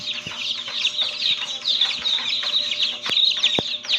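Rhode Island Red chicks cheeping continuously in a dense, high-pitched chorus, with a few louder clucks and sharp peeps standing out near the end.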